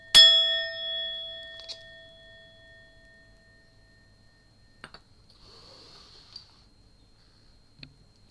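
A single bright metallic chime strike, rung to cleanse a space, rings out loudly and decays over about three seconds, followed by a few faint ticks and clicks in near silence.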